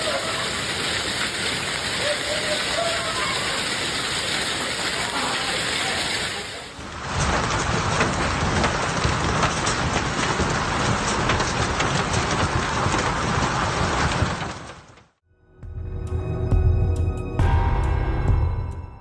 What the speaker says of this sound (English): This massive hailstorm in Brazil hit like a waterfall of ice, with giant hailstones pouring down so hard